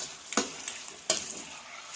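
Chicken and onions frying in a pan over high flame, with a steady sizzle and two sharp scraping stirs of a spoon against the pan close by.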